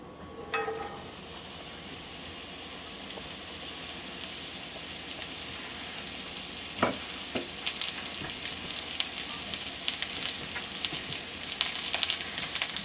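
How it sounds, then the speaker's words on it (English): A cup of mushrooms fries in olive oil over medium-high heat in a skillet, a continuous close sizzle that grows busier with crackles and a few stirring clatters, no talk. "And we will cook our mushrooms till they're tender."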